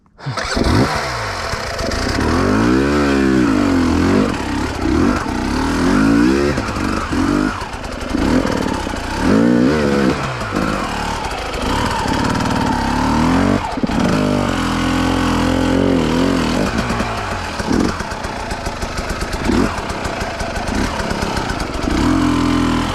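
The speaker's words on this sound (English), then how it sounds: "So I'll shoot up this, use the rock to pivot over, shoot up that, wiggle the bike to the right, and blip up those steps there." Enduro dirt bike engine revving hard and continuously while climbing rocks and steps on a hard enduro loop, with repeated throttle blips and rising, falling pitch sweeps, loud and close throughout.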